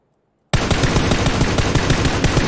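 Video game gunfire erupts suddenly after a short silence: a loud, continuous burst of rapid automatic shots that keeps going to the end.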